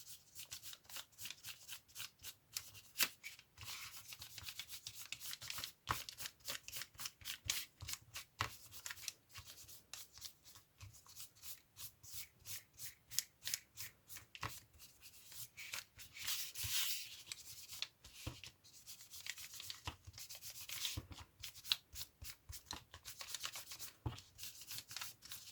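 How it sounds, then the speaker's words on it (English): Ink rubbed by hand onto vellum and book page paper, a soft, steady papery scrubbing with quick repeated strokes, close and quiet with no talking. "on this side, I'm going to rub it with my ink"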